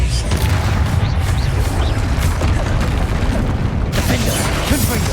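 Spell explosions in the game Hogwarts Legacy, heavy booms and crashing bursts layered over mechanical rattling and combat noise, loud and continuous, with a sharp new burst near the end.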